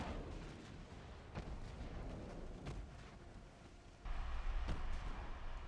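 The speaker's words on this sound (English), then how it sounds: "I don't think you've landed a single shot yet, Dennis." Naval gunfire in Ultimate Admiral: Dreadnoughts, a French campaign battle, heard as distant booming salvos rolling over a steady low rumble of sea and engines, with a louder surge of noise near the end and no talk.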